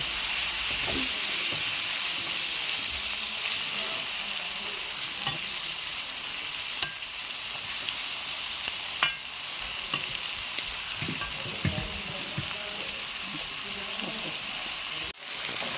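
Duck meat fries in a pan, a loud steady sizzle and hiss with intermittent scraping stirs and clinks of a spatula, no one speaking.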